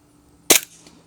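A budget backyard air gun plinker fires a single sharp, loud crack at close range, followed by a brief fading tail and faint background noise, with no talking.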